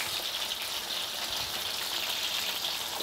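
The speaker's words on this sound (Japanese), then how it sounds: "気泡とこの音をしっかりと聞きながら見ながら、お肉を揚げていきます" Meat deep-frying in hot oil gives a steady, dense sizzle and crackle of bubbling fat throughout, close and even, with no talking.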